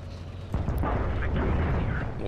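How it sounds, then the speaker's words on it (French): A loud explosion in the tank combat video game War Thunder bursts in about half a second in, then a rumbling, crackling blast fills the rest of the moment, with a voice talking around it. "Mon dieu, cette explosion."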